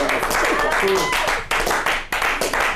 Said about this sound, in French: Je pense qu'on peut applaudir Nadré.